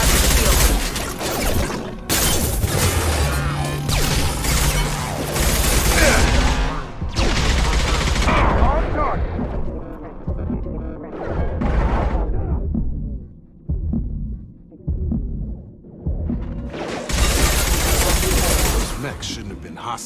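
Bursts of rapid gunfire fill a firefight in the video game Mass Effect 2, with heavy repeated volleys and booming impacts in uneven waves and a short lull midway. Voices call out over the shooting.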